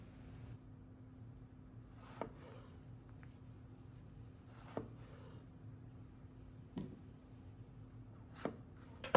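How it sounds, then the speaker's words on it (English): A knife chops fresh strawberries into smaller pieces on a board, giving four or five soft, evenly spaced close taps over a faint steady hum. "Cut them in smaller pieces."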